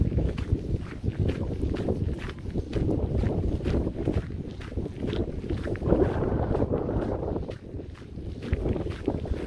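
Steady, blustery wind roars across the microphone for the whole stretch on a lakeshore in Kallhäll, Stockholm, Sweden, with faint splashes of water beneath the low rumbling gusts.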